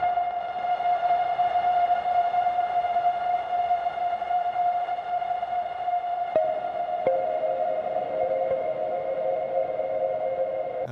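Rubber-bridge plucked string notes wash into a long reverb tail, blending into a steady, ringing drone. A couple of soft new plucks shift the pitch near the end.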